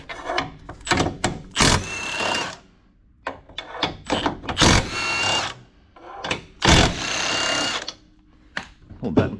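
A power tool spins out bolts under a 2023 Toyota Prius during a hitch installation, loud close whirring bursts starting and stopping repeatedly, separated by short clanks and pauses.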